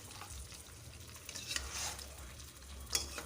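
Quiet scraping and stirring sounds as mutton is mixed with masala in a pan under a faint background sizzle, with a few louder scrapes of the utensil.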